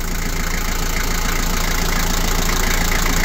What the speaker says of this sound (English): Under here, next to the driver, there's your engine.